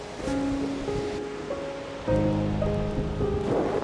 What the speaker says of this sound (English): Rain, wind, and it's freezing.